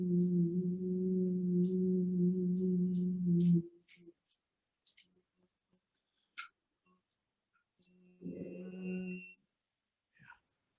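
A steady low hum held for a few seconds during Bhramari pranayama breathing, then quiet breaths and small clicks, followed by a second shorter hum.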